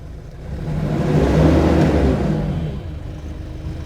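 A farm machine's engine revs up under the accelerator, swelling to a loud rumbling roar, then eases back down toward idle; no talking.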